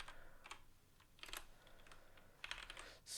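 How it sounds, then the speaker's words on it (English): Soft, close keystrokes on a computer keyboard come in short clustered bursts with brief pauses between them, quiet and alone. "This is what I'm going to type there."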